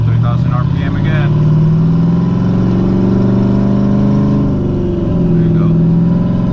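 A lifted Silverado's 5.3L V8 with a TSP 224R cam revs loud and close, holding a deep, choppy drone around 3,000 RPM while people talk over it.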